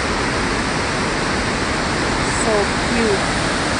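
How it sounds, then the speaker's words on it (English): Small waterfalls along a trail at Burney Falls produce a constant, loud rushing hiss of falling water close by, with a brief soft remark from a person over it. "There's some little waterfalls over here."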